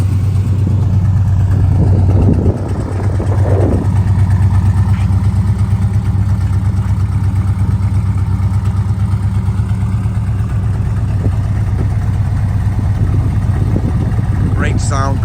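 A 1973 Chevrolet Camaro with an aftermarket cam idles with a steady, deep, loping rumble, close and loud, with a slight blip early on and no talk.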